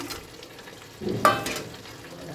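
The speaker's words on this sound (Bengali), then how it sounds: "কাতলা মাছের মাথাটা ভেজে রেখেছিলাম, দিয়ে দেবো আমি" A fried katla fish head drops into a hot pan of spinach and fish curry, setting off a loud sudden sizzle and stirring over a steady background crackle of frying.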